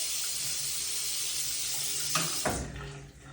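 Water runs steadily from a bathroom sink faucet during a plumbing check, a continuous close hiss that is cut off near the end with a couple of soft knocks.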